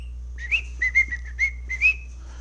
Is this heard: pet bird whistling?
yes